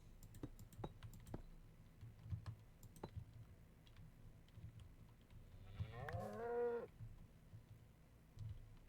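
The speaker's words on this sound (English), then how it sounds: "Boy, cows are loud." Cows moo in a video game, with one loud, drawn-out bellow rising and bending near the end. Crisp computer keyboard clicks tap away sporadically up close throughout.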